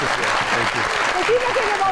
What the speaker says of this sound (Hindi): तालियां आनी चाहिए